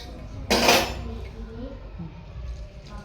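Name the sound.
cooking pan set down and water added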